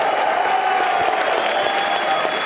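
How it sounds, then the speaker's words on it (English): A steady, dense round of applause from an audience for a discussion panel at a conference, continuous clapping with a faint murmur of crowd noise and no pauses. "If you can have a round of applause for our wonderful panel."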